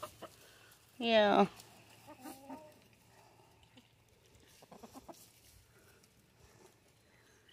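Backyard flock of Wyandotte, Brahma, Rhode Island Red and Buckeye hens: one loud burst of clucking near the start, then softer scattered clucks and rustling, with a brief voice in between.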